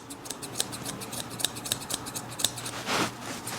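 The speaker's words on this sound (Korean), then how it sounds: "이때 튜닝 가위 역할이 또 굉장히 중요하죠?" Thinning scissors trim a dog's fur during a teddy-bear face cut, giving a quick series of crisp, close snips at an irregular pace, fairly quiet, with no voices.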